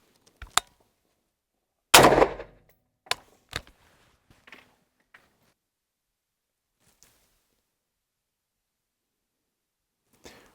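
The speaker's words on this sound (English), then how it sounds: "I'll arm it, and we'll take our first shot, or second shot in this case." A gun fires a single loud, sharp report next to an EB Mark 1 measuring device, preceded and followed by small mechanical clicks and handling sounds, then near silence.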